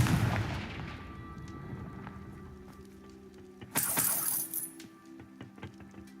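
A Confringo fire spell blast in the Hogwarts Legacy video game, a sudden bright burst with a crackling, shattering tail standing out over a low rumbling game soundscape.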